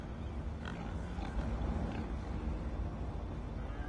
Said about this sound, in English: You can actually hear the pigs and stuff here.